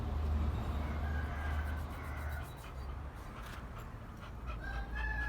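Faint chickens clucking and calling at a distance over a low rumbling background, with scattered short clucks and a few higher tones.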